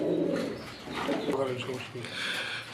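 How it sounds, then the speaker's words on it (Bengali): Black and white Rajgolla pigeons in a loft, low soft cooing close by, mixed with someone talking over them. "আমরা দেখতে পাচ্ছি এখানে আরেক জোড়া রাজগোল্লা কবুতর"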